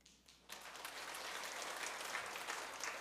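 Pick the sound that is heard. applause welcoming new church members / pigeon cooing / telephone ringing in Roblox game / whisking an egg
applause welcoming new church members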